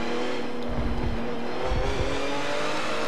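Ferrari race car in Forza Motorsport 7 holding a high, steady engine drone near the rev limit, loud and continuous with faint tire scrubbing underneath, no voices.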